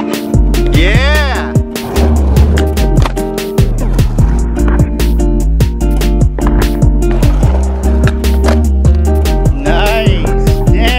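A popsicle stick skateboard rolls and clatters, with repeated wheel rumbles, sharp board impacts and landings, and people talking and cheering nearby throughout.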